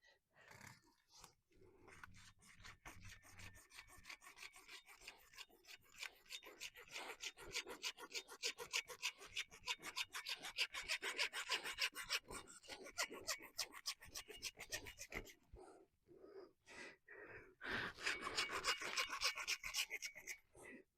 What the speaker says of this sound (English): Trying to cut it straight as possible, but it's hard on the dirt